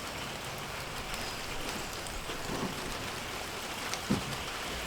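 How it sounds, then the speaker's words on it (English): Steady rain falls outdoors on a mobile home rebuild site where stacked wooden steps are being framed, a constant close hiss of drops with a brief louder knock near the end. "we're getting a little bit of weather, some rain coming down"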